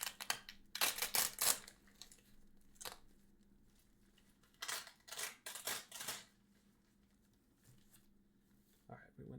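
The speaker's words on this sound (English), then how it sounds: "I'm going to go ahead and turn down the mic again so I can just rip this open" Plastic packaging of new goalkeeper gloves is ripped and crinkled open in close, quiet surroundings, with several bursts of tearing and rustling separated by pauses and a softer rustle near the end.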